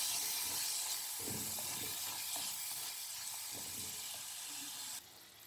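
Prawns sizzle in a pan for a Kerala prawn perattu, a dense continuous hiss with soft scraping stirs underneath, until the sizzle drops off abruptly near the end.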